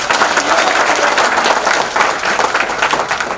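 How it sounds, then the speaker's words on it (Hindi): Loud, dense applause from a large audience of students at a success party for selected ALP technician students, a steady roar of many hands throughout with no talk over it. "इन सभी के लिए जोरदार ताली होना चाहिए।"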